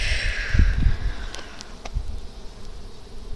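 Honey bees buzzing around an open backyard hive of three boxes during a July inspection, a steady close hum with a louder burst near the start that eases into a softer drone.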